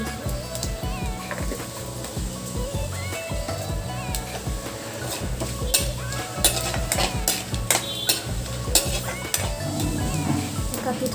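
Bay leaf and cinnamon sizzle in hot mustard oil in a pan while cooking elephant foot yam with fish, a steady frying hiss with clinks of a spoon against the pan, under light background talk.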